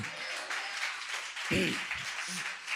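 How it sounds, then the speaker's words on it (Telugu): A church congregation claps in a steady, fairly loud burst of applause that fills the room, with a voice briefly heard under it. "ఒకసారి గట్టిగా చప్పట్లు కొట్టండి."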